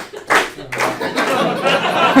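Office group clapping along to a short birthday song, a few brief uneven claps mixed with chuckles and murmured voices, close and lively.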